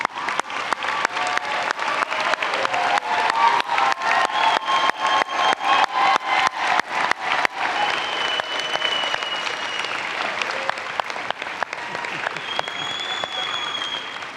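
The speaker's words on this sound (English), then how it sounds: "round of applause." A graduation commencement audience applauds master's degree candidates in a large hall, with long, steady, full clapping and scattered cheers that carry on for the whole stretch.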